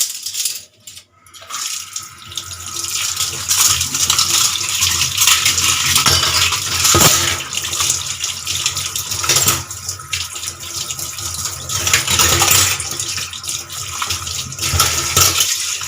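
Running tap water splashes steadily over a metal tea strainer being rinsed in a sink, a loud continuous wash with small clinks and knocks throughout and no talking.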